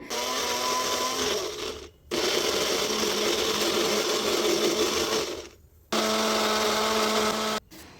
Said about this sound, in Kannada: ಸ್ವಲ್ಪ ಡಿಸಿಡೆಡ್ ಡೇಟ್ಸ್ ಹಾಕ್ಕೊಂಡು ಅದನ್ನು ನಾನು ಗ್ರೈಂಡ್ ಮಾಡ್ಕೊಳ್ತಾ ಇದ್ದೀನಿ